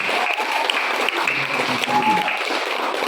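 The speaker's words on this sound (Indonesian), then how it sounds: "tepuk tangan untuk saya" An audience at an SDK Bugis school gathering in Borong, Manggarai Timur, claps for a former pupil now teaching there, a dense, even patter of applause throughout, close and moderately loud.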